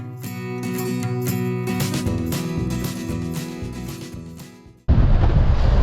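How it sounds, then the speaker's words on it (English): Strong wind buffets loudly throughout at a scenic coastal viewpoint along the Seward Highway on Alaska's Kenai Peninsula, with a rushing roar that surges sharply near the end. "It's pretty windy out."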